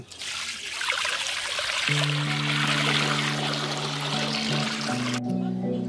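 Water is poured steadily for a jalebi batter of flour, making a continuous close splashing trickle, while instrumental music plays over it, and the sound cuts off abruptly at the end.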